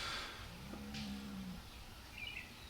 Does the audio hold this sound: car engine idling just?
no